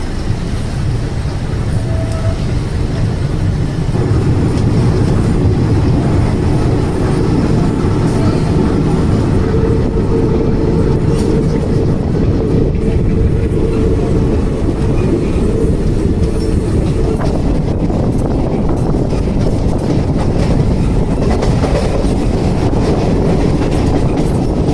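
Shirdi–Kakinada Port Express rolling into Jalna station, a loud, steady rumble of train wheels and carriages running continuously, with rhythmic rail clatter and some metallic squeal building toward the end.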